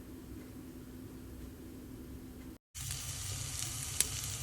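Onions fry in a pan for paneer butter masala, a soft steady sizzle that cuts out briefly and returns louder with a sharp click near the end, with no talking.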